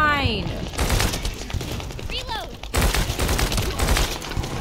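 Video-game gunfire rattles in dense, repeated bursts of rapid shots, fairly close and loud. A player talks over the shooting, with brief electronic tones between volleys.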